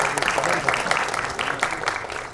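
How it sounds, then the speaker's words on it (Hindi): Applause from the audience at a music album launch event in India, a short burst of crowd clapping with some individual claps standing out, fairly close and lively. "प्लीज इन सबको जोर से तालियों से नवाजिए।"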